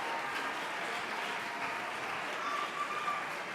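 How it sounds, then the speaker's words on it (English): A school assembly audience claps for ribbon winners, a faint, distant patter of many hands held at a low steady level with a thin background tone. "So I now would like you to give a round of applause to all these guys for winning ribbons"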